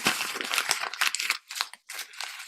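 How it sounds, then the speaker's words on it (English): Sheet of paper being crumpled by hand during a comics workshop, a continuous run of crisp, close crinkling and crackling bursts with brief pauses, no talk. "Crumple that paper up."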